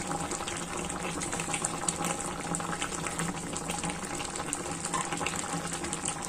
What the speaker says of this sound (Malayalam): അപ്പം നമ്മുടെ ചിക്കൻ നന്നായിട്ട് തിളച്ച് വന്നിട്ടുണ്ട്.